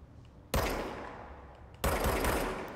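Two loud, sharp gunshot blasts in Control, each followed by a long decaying echo and separated by about a second of quiet.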